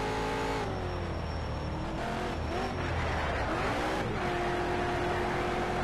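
Race car engine in Need for Speed Shift drifting, revving loud and steady with rising and falling pitch as gears shift, tires squealing through the slide, no voices over it.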